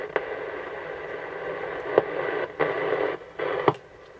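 Faint music and hiss from a repaired 1961 AWA B17 transistor radio, cutting in and out with sharp clicks and bursts of static as it is adjusted, with no one talking.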